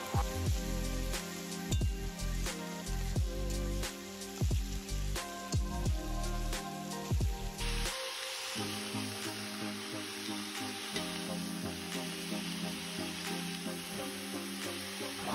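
Shrimp sizzle in hot oil in a pan, a steady crackling hiss with scattered pops and a few stirring clatters early on, close and fairly quiet.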